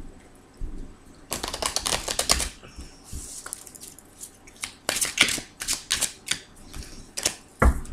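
Tarot cards being shuffled by hand, in quick crisp riffling bursts separated by short pauses and softer handling sounds, close and clear.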